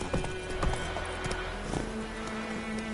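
Galloping hoofbeats of the horse Roach in The Witcher 3 video game, a steady rhythmic clip-clop close by over ambient game background, with a low voice briefly under it.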